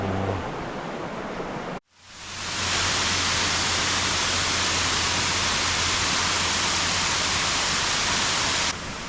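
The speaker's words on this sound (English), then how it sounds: "we're almost right on top of that waterfall with this lookout" Fitzroy Falls pouring down a cliff face from a lookout just above, a loud, dense, unbroken roar of rushing water that swells in after a brief drop at the start.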